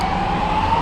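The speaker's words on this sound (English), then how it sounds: "You see a lot of ambulances around here." An ambulance siren on a nearby street sounds loud and steady, a single sustained wailing tone with traffic rumble beneath it, with no voices.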